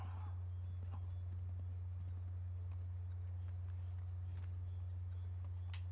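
Hoofbeats of a horse in the Assassin's Creed 3 video game, a faint, steady clip-clop rhythm under a loud constant low hum.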